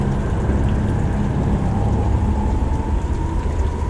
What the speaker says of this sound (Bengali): গাড়ির কাঁচের ওপরে অঝোর ধারায় বৃষ্টি পড়ছে